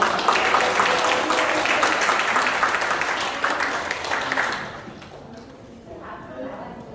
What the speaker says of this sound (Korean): 열렬한 환영의 박수를 부탁드립니다.